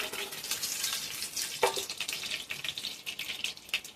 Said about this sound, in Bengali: ফোড়ন করার জন্য প্রথমে দেবো একটু শুকনো লঙ্কা, একটু তেজপাতা